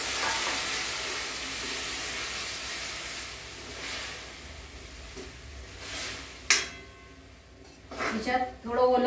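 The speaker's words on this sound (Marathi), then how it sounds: "आता ही ओले चवळी शेंगा सोलून ते शिजवलेले आहे, आता ते मी ह्याच्यात परतून घेते छान पैकी" Boiled fresh cowpeas sautéed in a pan give a steady broad sizzle and stirring hiss, with a sharp utensil clack near the end and someone speaking over it.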